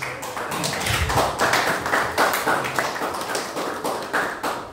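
A church congregation applauds, a dense patter of hand claps swelling in uneven waves for several seconds, close and lively, with no talking over it.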